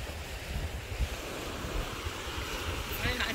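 Waves washing ashore at Red Beach on Santorini, Greece, a steady broadband rush of surf mixed with wind noise, continuous and close, with a faint sound near the end.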